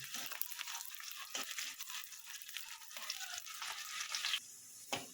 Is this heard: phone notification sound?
no